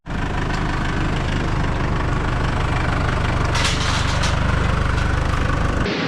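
A steady, loud engine drones as it powers a manure pit pump on a home pig farm, a throbbing low rumble held near and unbroken, with a brief clatter before it cuts at the end.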